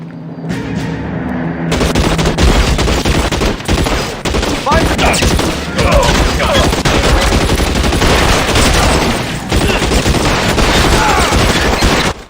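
Heavy shootout gunfire in L.A. Noire, dense rapid bursts of automatic and single shots cracking close and loud almost continuously for over ten seconds, with shouting voices mixed in among the shots.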